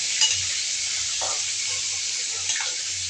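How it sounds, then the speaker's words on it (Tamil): Dried fish (karuvadu) frying in hot oil, a steady close hiss of sizzling with faint stirring scrapes now and then. "இப்போ கருவாடு வந்து நல்லா பொரிஞ்சிருச்சு"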